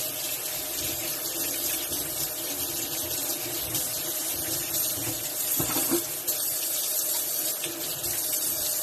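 Tap water runs steadily into a sink while a DeLonghi espresso machine brew unit is washed with a soapy brush, a continuous hiss with a brief louder splash near the middle and no talking.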